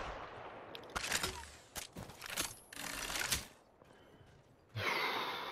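Gunfire in the Apex Legends video game: a few sharp bursts of shots spaced out over several seconds, fairly close and loud, with a brief quieter gap before a final burst.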